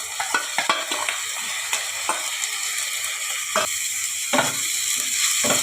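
Peas with ginger and garlic paste sizzle steadily in a hot pan, broken by irregular scrapes and knocks of a spatula stirring.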